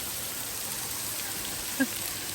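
Steady, hissing water noise fills the scene as a waterfall splashes into lower pools nearby, with one brief soft knock near the end.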